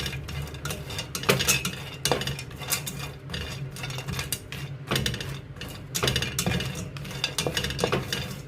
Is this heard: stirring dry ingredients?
yes